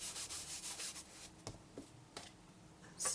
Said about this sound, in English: And let's get the embossing buddy.